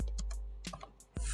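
A computer keyboard is typed on while entering text in Figma. A few quiet, sparse key clicks come in short uneven clusters, with a louder clack near the end.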